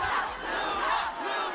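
A large K-pop concert crowd chants rhythmically for a group, a loud, dense wall of massed voices with repeated swells, cheering and shouting layered together throughout.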